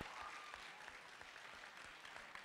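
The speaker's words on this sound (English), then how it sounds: "whether you agree or disagree, round of applause" Applause rises from the audience at a civics simulation symposium, moderately loud and continuous, a thick layer of many hands clapping across the whole stretch.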